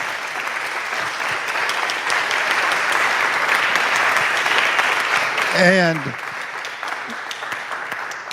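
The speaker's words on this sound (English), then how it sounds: "let's give Laurie a round of applause" A lecture audience breaks into dense, steady applause lasting several seconds, then it fades as a voice starts speaking.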